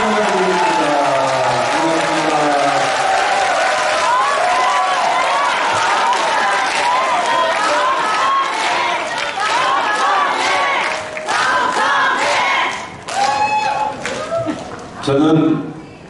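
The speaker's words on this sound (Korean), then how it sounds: "이 정도 박수를 받고 강연한 적이 한 번도 없습니다" A crowd at a political rally in Jeonju applauds and cheers loudly after a speech, a thick wash of clapping and voices with several shouts and surges toward the end.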